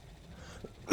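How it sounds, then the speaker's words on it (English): A single sharp cough bursts out close to the microphone at the very end, after a near-silent stretch with only faint background murmur. "apologies for coughing near the microphone"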